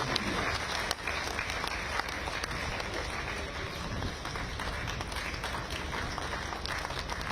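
Faint, continuous applause from an audience at an Independence Day event, a steady patter of clapping lasting throughout at a distance.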